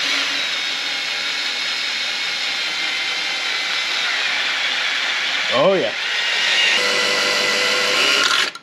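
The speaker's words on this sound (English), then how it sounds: "we can get our drill in here" An electric drill spins the oil pump of a Buick Electra 225's 400 engine through the distributor hole, a loud steady whine and hiss with a brief pitch sweep near the end, and a voice speaks briefly.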